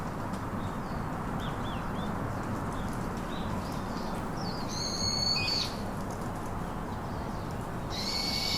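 Faint bird calls and hoots sound sporadically over a steady outdoor hiss, with a brighter burst of chirping near the middle and end.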